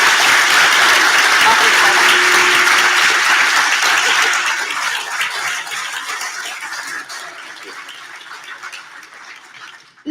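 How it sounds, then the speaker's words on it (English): An audience at a library event with a cookbook author breaks into loud, dense applause that holds steady for several seconds and then gradually thins and fades out. "Can I get a round of applause?"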